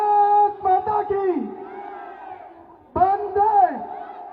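Crowd at a political rally in Delhi's Mangolpuri constituency, loud massed voices cheering and shouting in two bursts, with a brief lull between them and no clear clapping.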